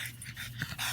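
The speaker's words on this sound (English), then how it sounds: "but that's my dog, Coco." Pet dog panting close by at night, quick rhythmic breathy huffs repeating several times over about a second, fairly quiet with no speech.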